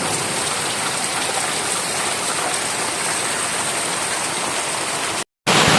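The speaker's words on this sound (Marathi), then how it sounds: "पाऊस बघा किती जोरदार लागतोय" Heavy rain pours down in a dense, constant roar of water that fills the whole stretch, close and loud, with a sudden brief cut near the end and no voices.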